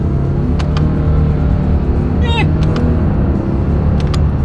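A 2025 Subaru Crosstrek with a CVT driving in full manual shift mode, its steady engine drone and road rumble filling the cabin, with small clicks and a brief chirp partway through.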